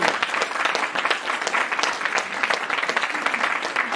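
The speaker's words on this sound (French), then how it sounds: "Donc applaudissez-le." An audience at a talk on truth and liberty claps steadily for a speaker, a dense, continuous patter of many hands that holds at an even level throughout with no voices on top.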